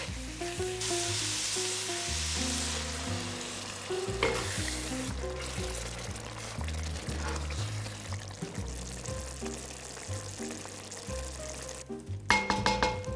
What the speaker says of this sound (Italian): Perfetto, adesso aggiungiamo 2 mestoli di brodo, anche 3.